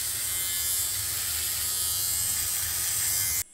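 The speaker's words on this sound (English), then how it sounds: "It does sound like a razor." Electric shaver running continuously with a steady, bright buzzing hum, close and fairly quiet, with no talking over it, stopping abruptly at the end.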